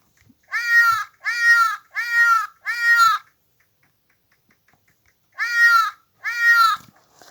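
A cartoon car in the video game Chicken Gun meows like a cat, four quick calls in a row, a pause, then two more, bright and loud in an otherwise quiet game scene.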